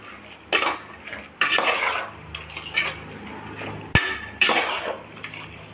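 Gokkarkaya (ivy gourd) being stirred with added water inside a pressure cooker, giving a series of close metallic scrapes and clinks of a spoon against the pot, coming in uneven bursts with no talking.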